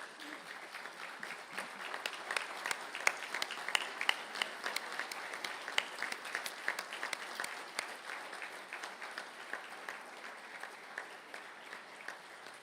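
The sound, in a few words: graduates applauding their families and supporters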